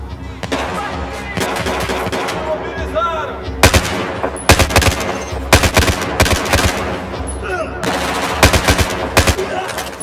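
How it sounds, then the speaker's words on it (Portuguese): Loud, close automatic gunfire from the video game Battlefield 4, with rapid bursts of shots and sharper single cracks over a constant battle din, while voices talk underneath. "Tô atirando!"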